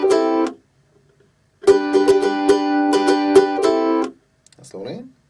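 Ukulele strummed in a short pattern for a song, with a brief strum, a pause, then a steady rhythmic burst of down and up strokes before fading out.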